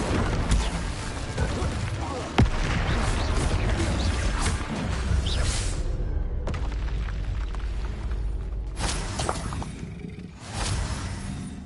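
A Confringo fire-blast spell going off in Hogwarts Legacy, booming explosive bursts layered over dense combat noise, with a voice talking over the action.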